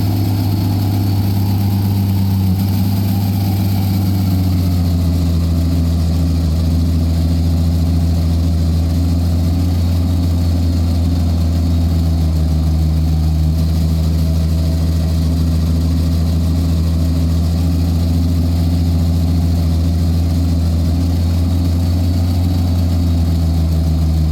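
A tank's engine in Tank Mechanic Sim, stuck in first gear, drones at a steady low idle with a heavy rumble that shifts slightly early on, then holds constant and loud throughout with no talk.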